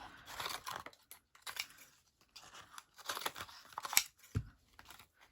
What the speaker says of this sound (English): I have a large pair of scissors, and I'm just going to take the worst of it off first